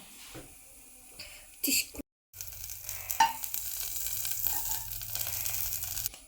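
Banana and egg batter poured into a ghee-greased pan, with brief clatter and a short gap before a steady, close sizzle settles in and continues to the end.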